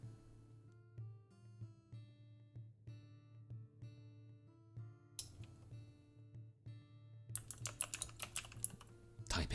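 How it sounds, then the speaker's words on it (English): Typing on a computer keyboard: rapid, close key clicks in uneven bursts over a low steady hum, growing busier and louder near the end, with no talk. "Typing sounds."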